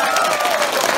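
Audience applause at a seed library council general meeting: a brief, dense burst of steady clapping from a seated crowd, with a voice faintly over it.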